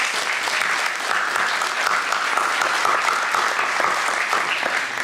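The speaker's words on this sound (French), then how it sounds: "On peut les applaudir." A crowd applauds steadily and loudly at a conference in Montlhéry, dense clapping filling the whole stretch without pause.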